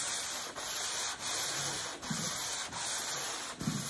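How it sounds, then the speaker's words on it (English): A sanding board rubbed back and forth over a varnished stand up paddle board, steady close abrasive strokes with brief regular pauses, no speech. "It's okay to turn the sanding board a little bit like this"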